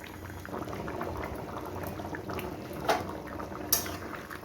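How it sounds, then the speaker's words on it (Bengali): A drumstick curry with poppy seed paste simmers in a pot, bubbling softly and steadily at low volume with a couple of sharper pops near the end. No voices are heard. "দেখুন আমার তরকারিটা কি সুন্দর ফুটছে"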